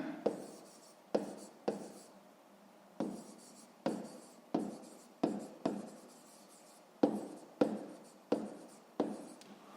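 Pen writing on paper for a school math exercise, a series of short scratchy strokes in irregular bursts, close and fairly quiet, with no voices.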